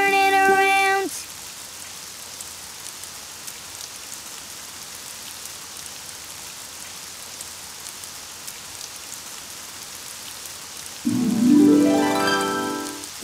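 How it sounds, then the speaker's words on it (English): Soft, steady rain patters throughout, fairly quiet and even, with brief tonal sounds at the start and end and no talking. "Oh, it's raining outside."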